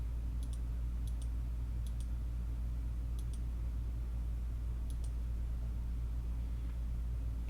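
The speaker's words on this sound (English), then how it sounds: "I'm going to use the Sibelius keyboard so you can see how this works." Computer keyboard keys tapped for Sibelius note entry, a few light clicks in quick pairs spaced out over a steady low hum, with no voice.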